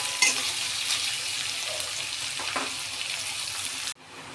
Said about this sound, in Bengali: দিয়ে এগুলোকে খুব ভালো করে ভেজে নেব।